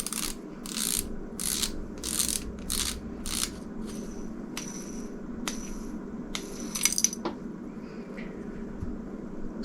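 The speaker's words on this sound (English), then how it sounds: "removing the star drag is as simple as unscrewing it" Star drag on an Abu Garcia Revo SX baitcasting reel being unscrewed, giving a run of crisp ratcheting clicks in steady bursts at first, then sparser metallic ticks, close and clear.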